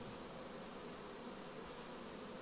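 Honeybees at an apiary where a new colony is being settled into a hive give a steady, dense buzzing that carries on without a break and stays faint and even.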